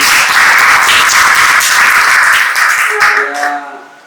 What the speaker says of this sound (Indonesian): Tepuk tangan sekali lagi untuk penyanyi.